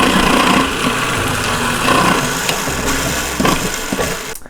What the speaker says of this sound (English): I'm just gonna blitz that up until it's kind of coarsely chopped